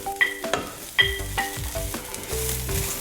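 Anchovies and chilies fry in a pan on a switched-off stove, giving a steady close sizzle broken by several sharp clanks and scrapes of a utensil against the pan.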